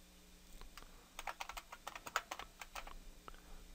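Keys clatter on a computer keyboard as a password is typed into a Windows 8.1 account setup, a quick irregular run of close, light clicks with short pauses and no talk.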